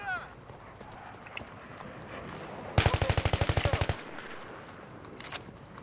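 Rapid automatic gunfire in the Battlefield 3 single-player campaign: a burst of about a dozen evenly spaced loud shots lasting roughly a second, standing out over a steady background of ambient game noise.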